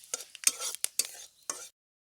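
Bay leaf, five-spice seeds and dried chilli hitting hot oil for a tempering: a quick run of crackling spits and sizzling bursts over about a second and a half, close and fairly quiet, then silence.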